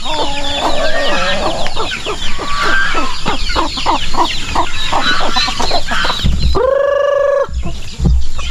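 A flock of chickens clucks and chatters steadily up close, with a louder drawn-out squawk near the end.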